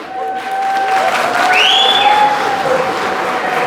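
Wedding guests on the bride's side clap together, a steady wash of crowd applause with a few whistles and shouts rising over it.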